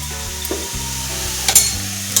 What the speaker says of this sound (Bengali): এবার ঘিয়ের সাথে গাজরটিকে ভালোভাবে নাড়াচাড়া করে নিচ্ছি।